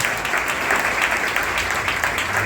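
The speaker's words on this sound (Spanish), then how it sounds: "¿Cuánto le damos aplauso a Jesucristo por esa gran bendición?" A church congregation claps in a dense, sustained burst of applause, steady and fairly loud throughout, with no voices standing out.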